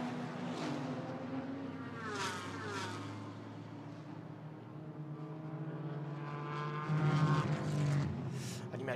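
A Toyota GR Supra GT4 race car on a fast qualifying lap at Paul Ricard, its engine droning with rising and falling pitch through gear changes, swelling louder near the end, with faint commentary underneath.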